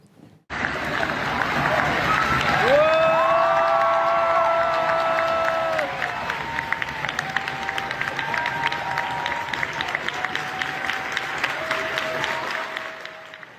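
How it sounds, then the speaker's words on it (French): Large crowd of students at Sciences Po Lyon loudly applauding and cheering Rima Hassan's arrival, sustained dense clapping with shouts and chanting voices rising above it, continuing steadily throughout. "l'arrivée de Rima Hassan à Sciences Po Lyon, qui a été acclamée effectivement par les étudiants"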